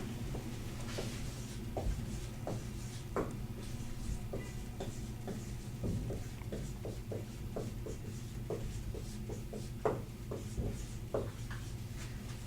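Pen writing a website address on a surface, a run of quick light taps and scratches in uneven rhythm, close and soft over a low steady hum.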